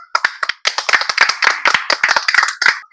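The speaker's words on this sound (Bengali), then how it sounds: "বাটি পেয়েছে, তার জন্য হাততালি হোক" Clapping for a player after a turn in a ball-rolling game, a few pairs of hands beating a quick, uneven run of sharp claps, close and fairly loud throughout.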